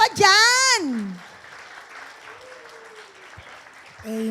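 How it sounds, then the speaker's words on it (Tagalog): A church congregation applauds during a Sunday celebration service, a steady moderate wash of clapping following a brief spoken voice at the start, with another voice returning at the very end. "Palakpakan nga po natin muli ang ating Panginoon."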